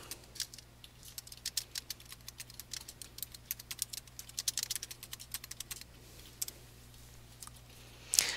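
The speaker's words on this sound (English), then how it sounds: "then we'll type in the notes" Quick, light keystrokes on a computer keyboard while typing notes into an incident form. Steady irregular clicking sounds close and quiet over a faint electrical hum, with a brief louder burst at the end.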